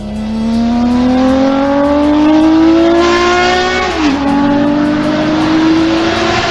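A Honda CBX1000 inline six-cylinder motorcycle exhaust revving loudly and close, its smooth wail climbing steadily in pitch, dipping briefly on a shift, then climbing again, with no talk.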